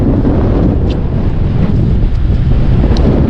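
Strong wind roars and buffets the microphone in a loud continuous rumble, with a sense of open water and surf beneath it.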